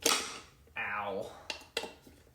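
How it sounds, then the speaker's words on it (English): Metal wrench spinning and clanking against an aluminum wheel during a tire change on a 2023 Honda, a long whirring rattle followed by a few sharp metallic clinks, with some faint voice. "Might help if I put the wrench in there before I spun it"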